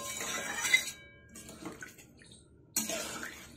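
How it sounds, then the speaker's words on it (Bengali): Water poured into a pot of Bengali rui fish curry with drumsticks and potatoes, a short splashing pour near and alone, then quiet, then another burst of splashing. "তো আমি এই সময় দিয়ে দিলাম পরিমাণ মতন জল।"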